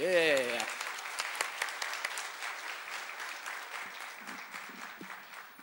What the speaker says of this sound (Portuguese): Aplauso novamente.